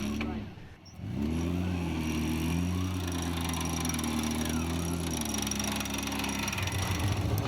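A 4WD vehicle's winch hauls rope to pull it up a steep wall at an extreme winch challenge, a loud sustained mechanical whine and drone with engine rumble, starting after a brief dip and running steadily.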